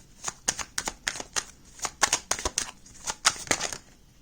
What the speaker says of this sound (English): Those are too many cards, so I'm going to put it back and shuffle one more time.